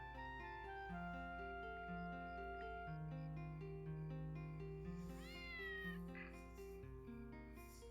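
A cat meows in the video game Dark Cloud, a few short rising mewing calls over steady, layered game music, fairly faint against the soundtrack.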